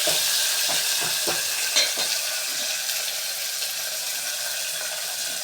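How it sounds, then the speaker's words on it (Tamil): Chopped onions sautéing in a pan for puri potato masala, a bright continuous sizzle with a few spatula scrapes early on, close and fairly loud. "இப்போ நம்ம கட் பண்ணி வச்சுருந்த வெங்காயத்தையும் போட்டு நல்லா வதக்கிக்கலாம்"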